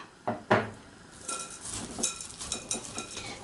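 Rubber spatula mixing wet oatmeal cookie dough with walnuts and chocolate chips in a bowl, giving two sharp knocks against the bowl and then a run of soft, irregular scraping and clinking strokes, close and fairly quiet, with no voices.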